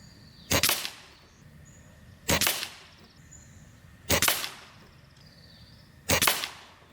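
JTS Brawn bullpup PCP air rifle firing FX Atomic pellets: four sharp, loud shots at roughly two-second intervals, each a crisp crack with a short metallic ring, over quiet outdoor background.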